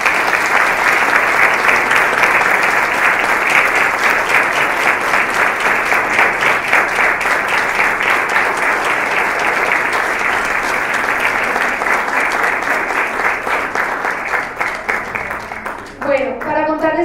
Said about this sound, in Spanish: aplauso por haber escrito este texto